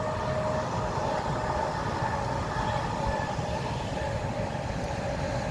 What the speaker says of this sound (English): Another train there.